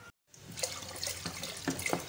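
Water poured from a tap into lentils for Hyderabadi khatti dal, a steady splashing stream after a brief silent gap, with drips and small splashes rising over it, close and fairly loud.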